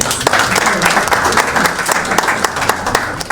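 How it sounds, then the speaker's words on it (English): Loud, sustained applause from an audience at a business event, a dense spread of many hands clapping with some sharper individual claps standing out, with no talking. "Let us give a warm-up round of applause"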